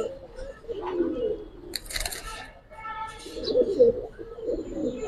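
Giribaz pigeons in a loft, low throaty cooing in several close bursts, with a voice heard briefly partway through.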